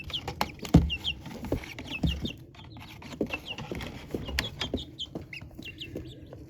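A hen clucks in short, irregular bursts nearby, with thin chick peeps scattered over the top and occasional scratchy rustling.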